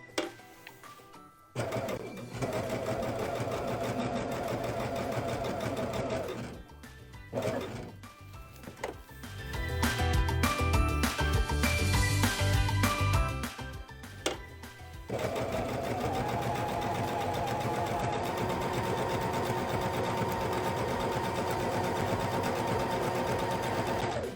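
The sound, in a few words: Baby Lock Jazz 2 sewing machine sewing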